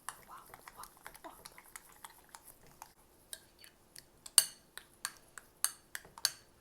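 A spoon mixing garlic yogurt sauce in a bowl, giving a run of soft scraping clicks and sharper taps, irregular but steady and close, that grow louder toward the end.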